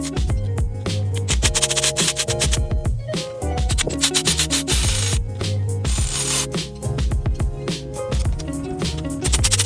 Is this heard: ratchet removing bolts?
yes